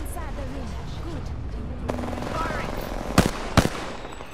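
Gunfire in Apex Legends: two sharp, loud shots ring out near the end, following quieter background game sounds and a voice speaking in the earlier part.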